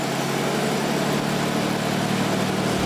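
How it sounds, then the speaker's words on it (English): Classic car engine running at a steady idle, a constant close rumble with no other sounds on top. "always fire her up just to make sure she sounds as good as she looks"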